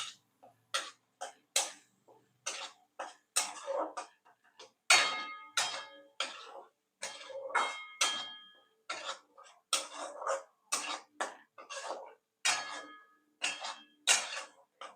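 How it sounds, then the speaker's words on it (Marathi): Masala paste for a spicy crab curry fried and stirred in a pan, with a steady run of short scraping and clinking strokes from a spoon against the metal, close and repeated throughout. "आता हे वाटण चांगलं परतून घेऊया"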